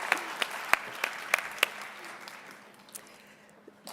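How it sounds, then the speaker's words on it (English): Scattered audience applause at an MLK tribute gathering, a handful of distinct sharp claps followed by a thinning, fading patter from a small crowd. "a round of applause for all of her love and hard work for so many years"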